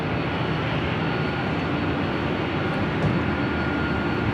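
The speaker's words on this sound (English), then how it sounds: "Lufthansa 437 heavy, or after Del Rey, running 24 left here for takeoff." Lufthansa 437 heavy jet taking off from runway 24 left at Los Angeles LAX, a steady loud broad engine roar with a constant rumble and no talking.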